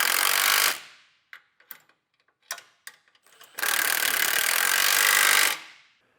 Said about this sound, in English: Now we'll take a 19mm wrench and socket and tighten this hardware down.